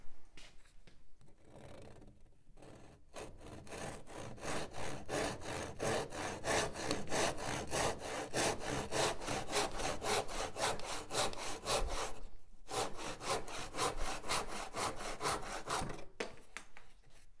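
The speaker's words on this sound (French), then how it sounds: "Et coupez à l'aide de la scie à dos." Steady back-and-forth sawing through a wooden board with a back saw, strokes in a regular rhythm, close and fairly loud, with a brief pause partway through.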